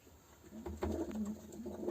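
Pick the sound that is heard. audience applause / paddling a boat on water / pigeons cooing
pigeons cooing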